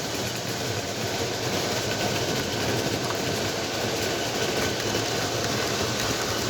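An O gauge model train locomotive, an Atlas Trainman Rock Island RS3, runs steadily along the track with a continuous close rumble and faint clatter, no talking.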